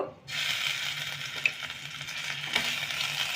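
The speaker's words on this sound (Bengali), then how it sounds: "রসুনটাকে হালকা ভেজে নেব" Chopped garlic lightly frying in oil in a pan, a steady close hiss and crackle that starts abruptly and carries on evenly with a couple of small pops, no voices.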